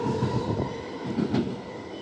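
A train rolling at a station platform on Perth's Armadale Line at night, steady rumble with faint wheel squeal and rail clatter, fairly close and continuous.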